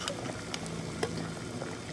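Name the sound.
water boiling in a pot with jam jars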